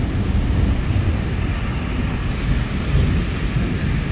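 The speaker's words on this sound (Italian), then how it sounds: "un po' di temporale, un po' di pioggia." An early-morning summer thunderstorm with rain gives a continuous dense roar of falling rain and deep rumbling, steady and fairly loud throughout with no voices.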